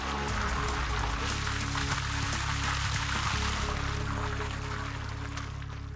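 Water is poured steadily onto permeable paving, giving a continuous splashing, rushing wash under a low background hum, with no voices.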